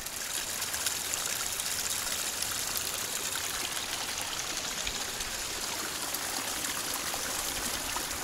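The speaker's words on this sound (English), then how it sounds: "that creek's running pretty good too" Creek water running steadily through laurels and vegetation on the Smith Creek Trail, a constant rushing, babbling flow with no voices.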